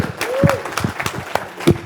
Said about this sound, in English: Hey, no, clap for Max